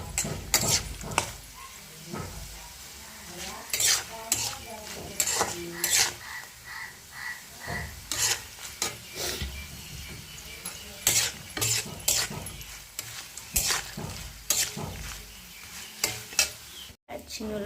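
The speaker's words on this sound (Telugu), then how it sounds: "పల్లీలు అయితే ఫ్రై అవుతున్నాయి కదా, ఫ్రై చేసిన కాకరకాయ ముక్కలు వేసుకుందాం." Peanuts and bitter gourd pieces fry in oil in a pan as they are stirred, with repeated sharp scrapes and clatters of the spoon over a constant sizzle.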